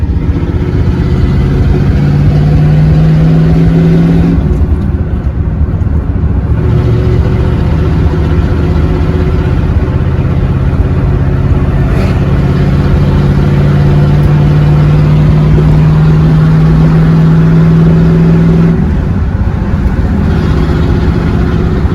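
A 1979 Chevy Camaro with a 307 V8 and a four-speed T10 manual drives along, its engine a loud, steady drone that rises and falls as it pulls and shifts, with no talking.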